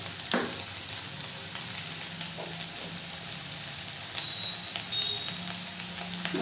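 Soybean chunks fry with turmeric powder in a pan, giving a steady, close sizzle that runs unbroken and even throughout, with no talking.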